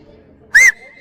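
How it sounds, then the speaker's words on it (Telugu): A single loud whistle at the Chichen Itza ruins in Mexico, a short rising tone of about a fifth of a second with a faint trailing ring after it over quiet outdoor background. "మనాడు ఇప్పుడు విజిల్ వేస్తాడు చూడండి"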